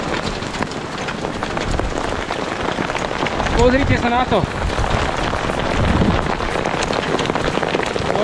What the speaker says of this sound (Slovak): Tak toto som nečakal, takéto krúpy.